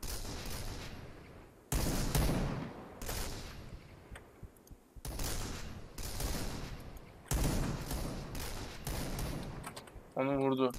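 Gunfire in the shooter game Point Blank, with dense bursts of rapid shots that start abruptly, then pause and return in several volleys, loud and close, with voices talking beneath.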